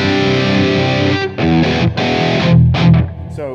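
Distorted electric guitar chords with ninths and open strings ring through a Mesa/Boogie JP-2C amp head, loud and sustained with several chord changes and sharp stops.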